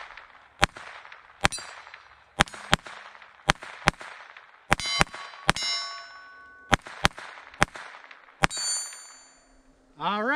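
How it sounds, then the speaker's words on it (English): A Taurus TX22 .22 pistol fires a string of sharp, loud single shots at targets, some followed by metallic ringing pings, with uneven gaps between them and a brief pause partway through. "All right, fired all those just fine."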